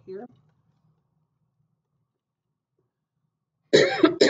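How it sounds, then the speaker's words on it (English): A woman gives a short, single cough right at the start, then near-silence follows until she resumes talking. "Excuse me for coughing."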